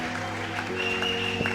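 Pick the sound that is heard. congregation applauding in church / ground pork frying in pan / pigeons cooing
congregation applauding in church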